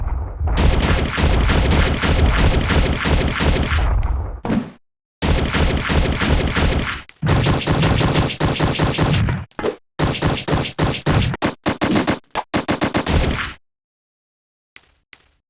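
Rapid handgun fire from a CZ75 pistol aimed at Mr. X in the Resident Evil Survivor video game, loud continuous volleys of shots with metallic pings, broken by brief pauses and a few isolated final shots.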